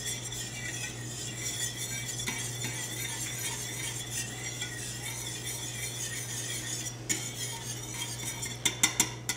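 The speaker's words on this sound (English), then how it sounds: "Whisk that in." A whisk clinks and scrapes steadily against a metal pan while butter is worked into velouté sauce, a constant low hum underneath and a few sharper taps near the end.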